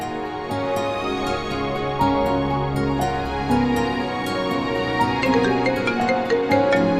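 A mobile phone ringtone plays loud and continuous for several seconds, a busy melodic tune with repeating bright accents, and no one speaks over it.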